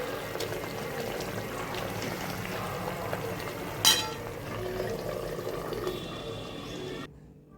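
Water is poured into a pan of fish curry in a steady, low trickle for about seven seconds, with a single small clink midway before it cuts off.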